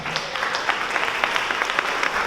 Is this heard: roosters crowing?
no